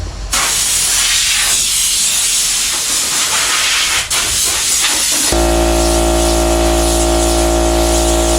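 Compressed air hisses loudly from a blow gun across a primed car panel in a garage, a harsh continuous rushing blast that changes into a deeper, rumbling roar partway through.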